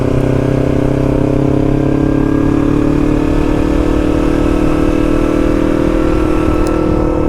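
Motorcycle engine, a Kawasaki Z900 or Yamaha YZF R3, held at high revs around 7,000 RPM, a loud, close, continuous drone with a slight rising pitch, no voices.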